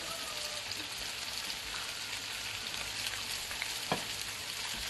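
Sweet and sour chicken being stirred in a hot pan, a continuous broad sizzle like light rain with a sharp utensil scrape near the end, close and steady, with no talk over it.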